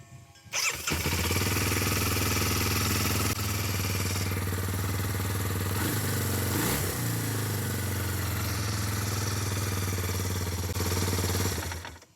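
A motorcycle engine idles at a high, steady speed, a loud continuous drone with a strong low hum that holds unchanged for about eleven seconds after starting up, with no voices over it.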